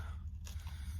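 A close, brief crunch as someone bites into a crisp hot pepper, followed by low chewing sounds.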